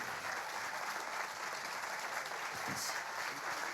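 An audience keeps clapping for an award winner at the Trophées h'up 2022 ceremony, a dense, steady wash of applause lasting the whole stretch with no talk over it.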